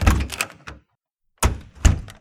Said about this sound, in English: A classroom door opens before closing a few seconds later.